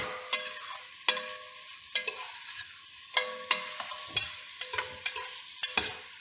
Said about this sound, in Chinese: 倒进去之后呢，我们将它搅拌均匀，让你的这些排骨呢都吸收了这个蒜头油的香味。